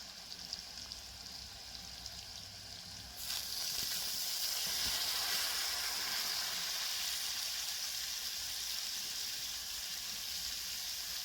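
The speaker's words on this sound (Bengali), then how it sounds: "আলুর এক পাশ লাল হয়ে ভাজা হয়ে গিয়েছে" Potatoes frying in oil in a covered pan make a soft, even sizzle that suddenly swells into a louder, denser hiss partway through and then holds steady, with no talking.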